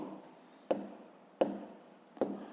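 Pen strokes on paper while working a fifth-grade maths exercise: three short, quiet scratching bursts, evenly spaced, in an otherwise hushed room.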